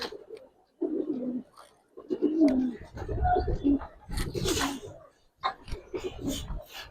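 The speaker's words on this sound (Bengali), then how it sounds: "এটা মাদি কবুতর" Big-sized giribaz pigeons, including a female, coo in low throaty bursts close by, mixed with rustling, wingflaps and someone talking over them.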